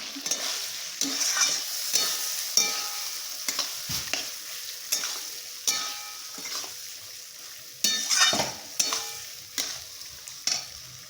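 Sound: papaya curry cooking in fish oil

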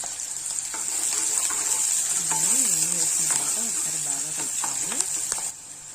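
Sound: onion frying with cumin and mustard seeds in oil

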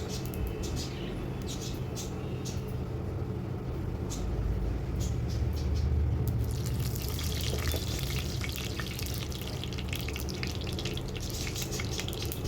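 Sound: bay leaves and whole cumin tempering in hot mustard oil

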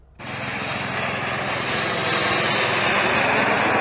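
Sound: jet drone flying overhead

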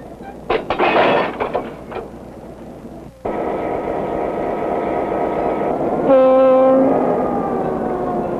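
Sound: electric train passing

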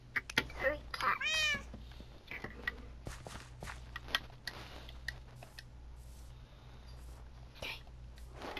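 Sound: cat meowing in the video game Minecraft

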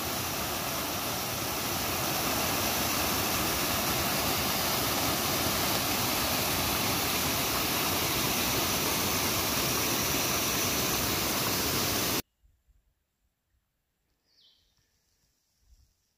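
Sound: waterfall beside hiking trail

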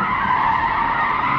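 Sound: car drifting with tires skidding

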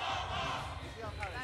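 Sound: crowd cheering at archery final in Ankara

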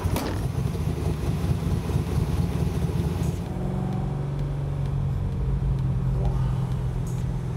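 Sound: car engine running

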